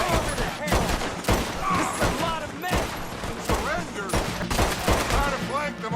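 Cannon and gunfire boom in rapid, repeated blasts during a Red Dead Redemption 2 gunfight, loud and dense, layered over other game sounds.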